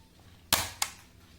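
A kids' toy gun loaded with soft bullets fires twice in quick succession, two sharp snapping pops close by in a quiet room.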